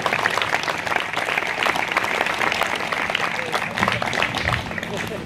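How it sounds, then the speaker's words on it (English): Crowd applause at a Democratic campaign kickoff event in New Jersey, a dense, steady wash of clapping lasting the whole stretch, with voices mixed in underneath. "So let's give her a round of applause."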